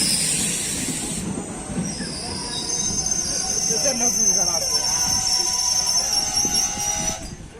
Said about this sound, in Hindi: देखिए ये ट्रेन है ये फारबिसगंज से आएगी। ये दरभंगा तक जाएगी।